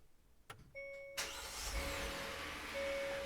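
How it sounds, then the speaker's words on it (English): A Hyundai Palisade started with the push-button: a few electronic chime tones sound, then the engine cranks and catches with a broad burst and settles into a steady, close idle, with no voices. "once the vehicle is started"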